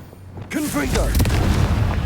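Confringo fire-blast spell from the video game Hogwarts Legacy, a loud booming burst that swells and rumbles on for about two seconds, with a voice calling out over its start.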